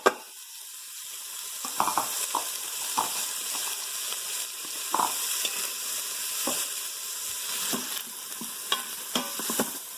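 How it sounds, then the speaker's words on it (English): Diced onion and celery sauteing in an Instant Pot, a steady soft sizzle broken by repeated clinks and scrapes of a utensil stirring, close and with no talk. "we'll start sauteing those"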